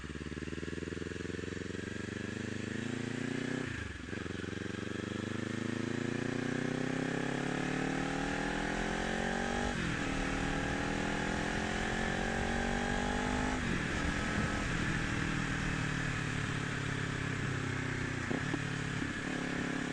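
A 2024 Kawasaki Ninja 500 motorcycle, heard while riding: the engine climbs through the gears, revving up, dropping at each shift, then pulling again under steady wind noise, loud and continuous.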